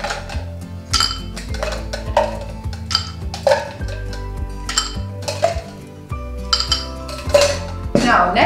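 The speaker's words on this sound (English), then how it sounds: "I've got a few ice cubes in here." Ice cubes dropped into a cocktail glass while mixing a Mamma Mia cocktail: a run of close, bright clinks and clatters of ice against glass, with faint voice and kitchen sounds beneath.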